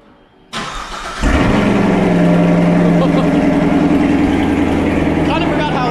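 A Chevrolet Blazer cranks briefly and fires up into a loud, rough exhaust rumble that settles into a steady, throaty idle close by, the rumble continuing after the engine catches.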